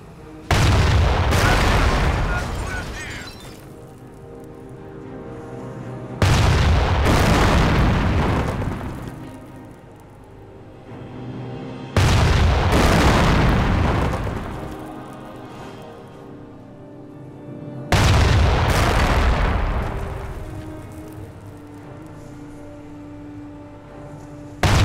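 Four heavy booms of video game cannon fire, evenly spaced about six seconds apart, each with a long rumbling decay, loud and close.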